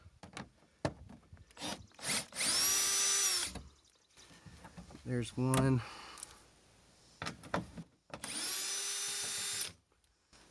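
A power drill backs out 10mm bolts on a 5th-gen Toyota 4Runner near the fog light, with two loud whirring bursts and a short ratcheting spin between them, and someone speaking briefly in between.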